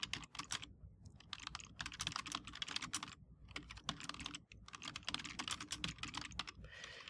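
Rapid typing on a computer keyboard while Python code is entered, a continuous close run of crisp key clicks with short pauses between bursts, no voices.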